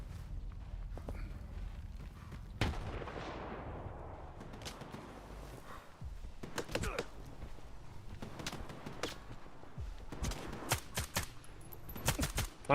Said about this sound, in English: I'm getting shot at from over here, it looks like